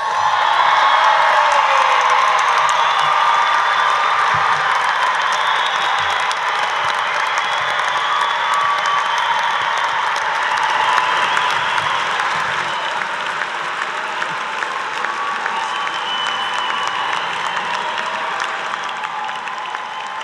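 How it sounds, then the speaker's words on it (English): A large crowd at a university graduate commencement applauds the new degree recipients, with sustained, dense clapping, scattered cheers and whoops, loud and continuous, fading slightly toward the end. "I think we should have one more round of applause for all the recipients of the Education Specialist and Master's degrees."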